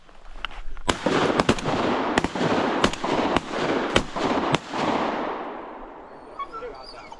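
Shotgun blasts during an opening-day duck hunt in New Jersey ring out as about seven or eight sharp, loud reports in quick irregular succession, with outdoor rumble and a faint bird call near the end.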